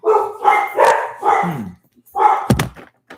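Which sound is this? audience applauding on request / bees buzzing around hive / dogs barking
dogs barking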